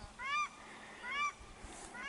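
Two paradise ducks give sharp, honking calls in annoyance, two distinct call bursts spaced about a second apart, moderately faint over a quiet valley background.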